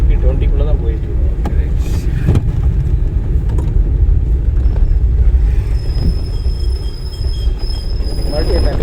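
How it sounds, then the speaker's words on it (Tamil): A car rolls along at about 20 during a driving lesson, its steady road and engine rumble filling the cabin continuously, with a few faint squeaks and clicks and a thin high whine late on. "வண்டி ஸ்பீட் 20 தான் போயிட்டு இருக்கோம்."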